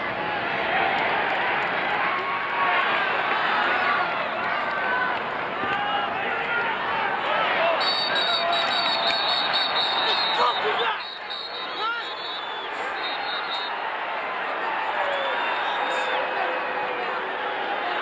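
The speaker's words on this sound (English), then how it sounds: "the crowd noise in the back makes it even more effective" A crowd at a Syracuse lacrosse game roars and murmurs through a skirmish on the field, a broad continuous hubbub with scattered shouts, footfalls and whistles, dipping briefly before building again.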